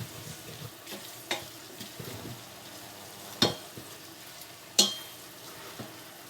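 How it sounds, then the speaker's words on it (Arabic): Garlic and meat for a Tunisian rechta frying in a pan, a faint steady sizzle punctuated by occasional scraping stirs and a couple of sharp clinks of a utensil against the pan. "خليهم ياخذوا تقليه صغيره"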